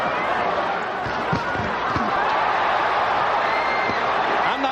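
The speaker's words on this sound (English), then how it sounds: "Crowd trying to chant Holyfield" Loud arena crowd at a Lennox Lewis vs. Evander Holyfield heavyweight boxing fight, a dense, steady roar of many voices straining toward a chant, with a few sharp thuds and shouts rising out of the din.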